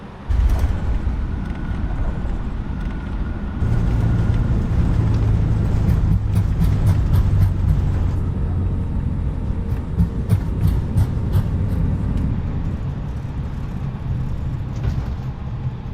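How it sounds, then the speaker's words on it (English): An Airbus A320neo landing on a short runway, its thrust reversers building into a sustained low roar with rumbling and rattling that rises and then gradually eases off. "Got a little bit of reverser action there."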